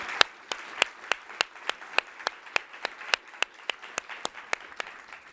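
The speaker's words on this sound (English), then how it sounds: "Let's have a round of applause for Susan." Sparse applause from a small audience at a statistics forum session: a couple dozen distinct, evenly spaced claps, moderately close and fairly quiet, with no talking.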